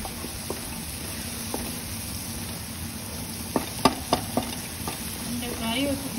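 Eggs frying in a pan give a steady low sizzle, broken by several sharp spatula taps and scrapes against the pan, heard up close with no talking.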